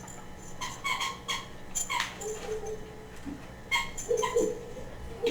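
A dog whimpers and whines in short, high, repeated cries indoors, close by, with soft rustling between.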